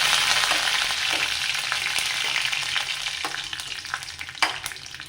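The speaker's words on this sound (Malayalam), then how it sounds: "അപ്പോൾ കടുക് പൊട്ടി വന്ന് നല്ലൊഴിച്ച് പച്ചമുളക് കറിവേപ്പില ഇട്ട് കൊടുക്കാം" Mustard seeds, green chilies and curry leaves sizzle and crackle steadily in hot oil, a loud, close, continuous frying hiss with scattered pops.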